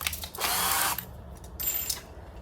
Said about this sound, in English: Pre-drill a tiny bit like that.